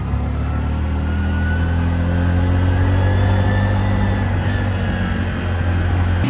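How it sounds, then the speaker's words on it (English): A truck on a road in Peru near the Nazca Lines, a loud, steady engine rumble with low drone and a faint rising whine as it passes close by, no talk. "We got a truck coming, that's why we got to stop."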